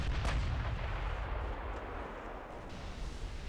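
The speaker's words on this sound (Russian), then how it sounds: "основные орудия стреляют по нему" Battleship main guns fire in the naval warfare game Ultimate Admiral: Dreadnoughts, a heavy booming blast at the start rolling into a sustained low rumble that stays loud throughout, with no voices.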